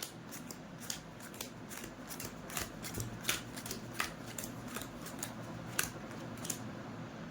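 Playing cards are dealt one by one into piles on a table during a card trick, producing a steady series of crisp, close flicks and slaps with no talking.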